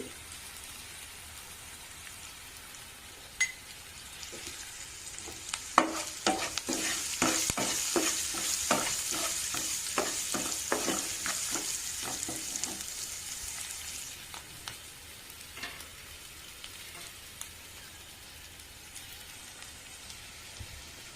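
Onions with a little salt sizzle on a medium flame, a soft constant hiss like light rain, with a burst of rapid stirring strokes in the middle, heard close and without talk.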